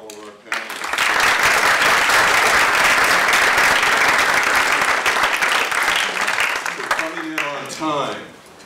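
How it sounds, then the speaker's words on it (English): A room full of people at an academic panel forum claps loudly and steadily for several seconds, the applause fading as a voice begins speaking at the end. "How about another round of applause for all of our panelists?"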